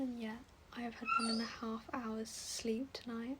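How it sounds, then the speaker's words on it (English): A sick dog whimpers and yips in high, wavering whines close by, repeated in short bursts while someone talks quietly over it. "if you can hear the dog in the background"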